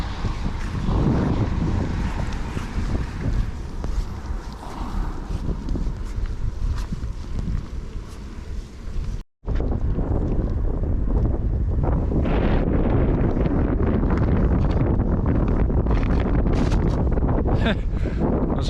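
Strong wind buffets the microphone on a bicycle tour from Veneto toward Istanbul during Cyclone Thor, a loud, rough, continuous rumble with one brief dropout midway.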